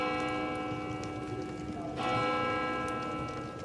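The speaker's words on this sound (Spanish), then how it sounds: "¿Oyes? Las campanas doblan." Church bells toll in a steady, ringing wash with sustained harmonic hum, joined by a brighter stroke about two seconds in, heard at moderate distance against a quiet evening backdrop near San Juan del Duero.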